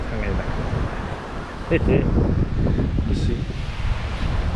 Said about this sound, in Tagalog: Medyo mahangin lagi siya.